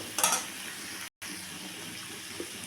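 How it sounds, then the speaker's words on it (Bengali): Water pours into a pan of prawn and taro curry, a splashing burst near the start over a steady sizzle that continues, with a brief dropout midway. "এখন আমি এটার মধ্যে দিয়ে দেবো জল।"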